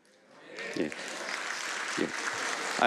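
A church congregation claps during a Sunday worship service, the applause swelling quickly and holding as a moderate, steady patter, with a few brief voices heard under it.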